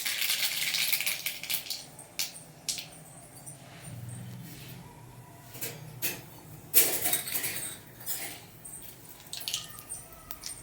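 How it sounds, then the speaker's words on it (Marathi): Mustard seeds are tipped into hot oil in a pan on a gas stove, giving soft sizzling and light crackles with a few clinks of a utensil against the pan, close and fairly quiet. "गॅस चालू करून त्यामध्ये मी तेल टाकलेलं आहे आता मोहरी टाकत आहे"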